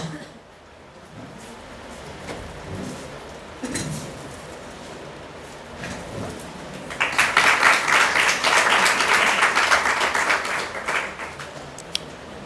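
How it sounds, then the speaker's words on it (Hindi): Students in a college hall break into a dense burst of applause welcoming a guest at a workshop, the clapping swelling after quieter murmuring and lasting several seconds before tapering off. "सभी छात्रों से आग्रह है कि वो तालियों से स्वागत करें तेज स्वर में"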